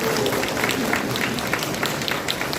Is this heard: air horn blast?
no